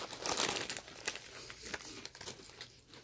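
A snack packet of tomato ketchup chips is crinkled and torn open by hand, with close, irregular bursts of crackling plastic that swell and fade over a few seconds.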